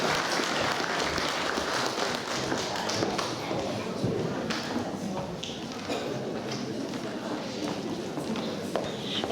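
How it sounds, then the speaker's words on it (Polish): Applause from guests at a charity ball in Zalasowa, a steady dense patter of clapping that holds evenly throughout with a murmur of voices underneath. "Brawa oczywiście dla państwa."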